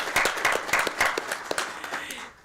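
Brief applause from attendees at a Texas Board of Criminal Justice meeting, honoring advisory committee members, comes as fairly close, crisp clapping that thins out and stops abruptly.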